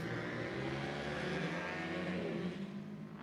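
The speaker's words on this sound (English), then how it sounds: "We're TT racing, folks, and that little yellow Suzuki out there getting it done." Racing motorcycles, including a yellow Suzuki and a KTM, on a TT dirt track. Engines drone and rev steadily at mid distance in a continuous blended roar, with no voices.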